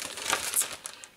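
A paper surprise bag of secondhand books from a book flea market crinkles briefly as it is handled, a short burst of soft, close rustling with small crackles and no talk.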